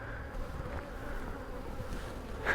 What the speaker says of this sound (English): But all those nurse bees will stay with that brood right there.